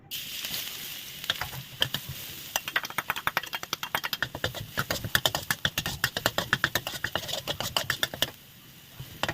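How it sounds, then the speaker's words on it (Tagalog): Garlic and minced pork frying in a pan, a continuous sizzle broken by dense clicking crackles and spatters that run close and steady, with a short quieter stretch at the end. "i-fry natin ang garlic with the minced pork"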